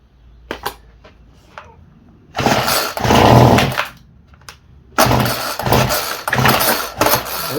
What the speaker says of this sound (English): one of the models, you gotta choke it every time you want to start